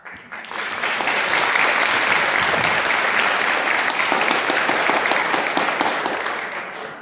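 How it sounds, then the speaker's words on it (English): Enthusiastic audience applause in a university auditorium during an evening talk with a public health official, a thick, loud burst of clapping that swells quickly, holds steady for several seconds, then begins to taper. "it gave you some great applause"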